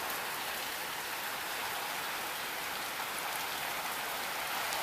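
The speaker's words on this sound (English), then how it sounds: "Oh, here comes the rain." Steady rain pouring down outside a house, a dense, even hiss of drops on surfaces that stays constant and moderately loud throughout, with no voices.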